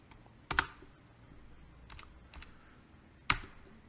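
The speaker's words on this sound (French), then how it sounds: "Maintenant qu'on a saisi au clavier le nom et le prénom" A name being typed on a computer keyboard: a few sparse, sharp key clicks, two louder strikes and some fainter taps, close and quiet against a hushed room.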